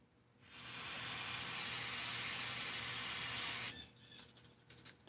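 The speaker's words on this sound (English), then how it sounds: "you can cycle it with some brake cleaner too" Brake cleaner blasts through an engine crankcase in one steady, loud aerosol hiss lasting about three seconds, then cuts off, leaving faint clicks and rustles.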